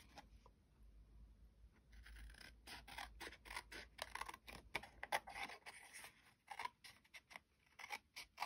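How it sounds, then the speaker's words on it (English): Scissors snip quietly through stamped paper labels at close range, in a run of short, irregular cuts and rustles with brief pauses between them and no talking. "so we can just cut these out"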